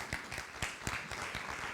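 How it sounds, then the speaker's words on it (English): Sparse applause from a small meeting audience, a few separate claps blending into a light patter over about two seconds, moderately near and fairly quiet. "Please invite them up with a round of applause."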